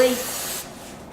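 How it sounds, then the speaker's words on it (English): Aerosol hair spray hisses in a broad burst onto a finished holiday hairstyle, then tapers off after about half a second; a voice murmurs faintly beneath it. "one more time, we're going to spray"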